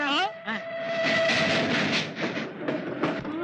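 A train rumbles past with a loud steady roar and rattling, a brief whistle-like tone at the start, voices faintly mixed in.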